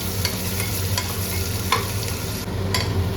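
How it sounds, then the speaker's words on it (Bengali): Chopped onions sizzle loudly and steadily in hot oil while a utensil scrapes and stirs them in a few faint strokes. No voices are heard. "পেঁয়াজটা খুব ভালো করে ভেজে নেব।"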